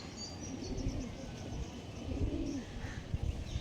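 Punjabi Malbai pigeons coo softly at close range, with low repeated coos over faint bird chirps and light background noise.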